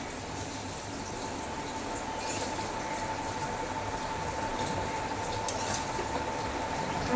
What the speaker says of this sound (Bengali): লবণ আর হলুদ দিয়ে এবার এটাকে ভালো করে একটু নেড়ে দিতে হবে, মিক্সড করে দিতে হবে।